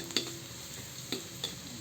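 Bean sprouts and tofu seasoned with chicken cube, salt and pepper brown in a hot pan under a continuous soft sizzle, broken by three light scrapes of a stirring utensil.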